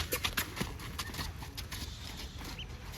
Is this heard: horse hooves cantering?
yes